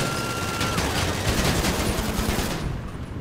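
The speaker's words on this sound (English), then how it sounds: "Oh, there's a guy shooting." Dense gunfire rattles continuously in a tank video game set in snow, a loud sustained volley of rapid shots with no talk.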